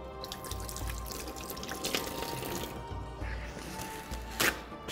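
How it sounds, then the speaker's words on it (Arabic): Hands are washed under a running kitchen tap, giving a steady soft hiss of flowing water with light splashes and a few drips. It is fairly quiet and close, with no clear speech. "نغسل ايدينا."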